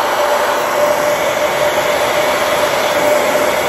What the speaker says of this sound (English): with the blow dryer, I can blow it back and forth to make it go whichever direction